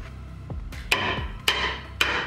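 A hammer strikes rusty brake parts on a Jeep Wrangler three times, sharp metallic knocks spaced about half a second apart, close up.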